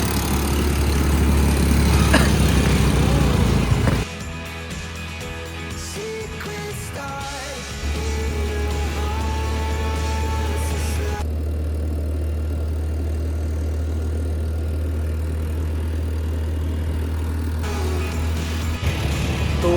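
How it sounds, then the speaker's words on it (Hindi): ATV engine idling and revving on the salt flats of the Rann of Kutch, a steady loud droning motor throughout with a sharp shift in pitch and load around four and eight seconds, no talking. "कच्छ तो ये एटीवी है, मैं चलाने वाला हूँ।"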